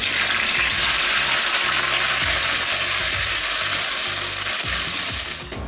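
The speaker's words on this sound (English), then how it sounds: "now I'll add our lamb in it" Pieces of lamb fry loudly in a hot pan with garlic and cloves, a dense close sizzle broken by repeated scraping stirs, fading slightly at the end.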